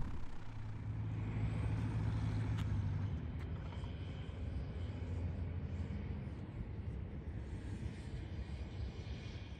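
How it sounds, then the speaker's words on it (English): Semi trucks and airplanes at a full-service truck stop campground: a steady, fairly distant engine rumble and broadband roar, with a heavier low drone over the first three seconds before settling into a constant background hum. "RVs, semis, and airplanes."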